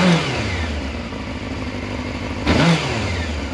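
A Honda CBR600F F3 motorcycle engine idles slightly high after a carburettor rebuild, with a steady close mechanical drone and a brief rise in revs near the middle.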